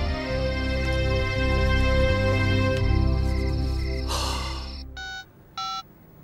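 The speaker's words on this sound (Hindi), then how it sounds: "गुप्ता जी का फोन था" A steady electronic telephone ring drones loudly, then breaks off, followed by two short separate beeping tones.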